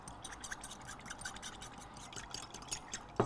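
Rice wine vinegar and sesame oil dressing whisked in a bowl, a soft rapid scratchy rubbing that repeats steadily and stays fairly quiet, ending in a brief louder knock.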